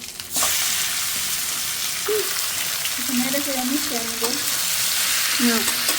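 Chicken pieces frying with garam masala, cinnamon, cloves, garlic paste and potatoes in a pan, a steady close sizzle running throughout with occasional stirring, no talk.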